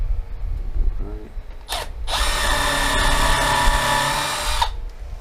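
A power drill whirs briefly, then runs steadily for about three seconds, cutting shallow countersink holes into decking boards for window boxes, close and fairly loud over a low background rumble.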